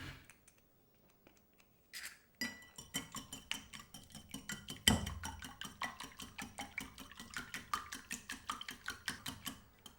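Four eggs are whisked in a bowl, the whisk clicking against the sides in a fast, steady rhythm of scraping strokes after a brief quiet start, close and moderately soft.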